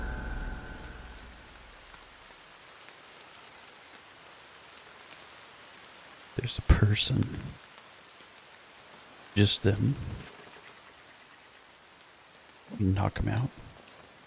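Rain falling in the survival video game The Forest, a constant low hiss in the background while a player talks over it in three short bursts.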